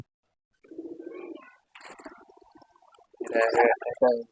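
A male racing homer pigeon coos up close in a quiet room, giving soft throaty rolling calls in separate bursts, with a brief voice heard between them.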